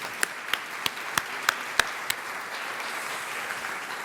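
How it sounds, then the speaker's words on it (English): Students are applauded at an awards luncheon. Seven sharp, distinct claps ring out over a low crowd murmur, then trail off into faint background room noise. "let's give them one more round of applause"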